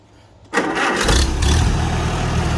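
A 1949 Farmall Super A tractor engine cranks over and catches after half a second of quiet, then settles into a steady, loud idle close by, with no talk.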